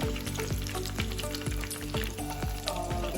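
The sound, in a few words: stuffed capsicum frying and turning in a pan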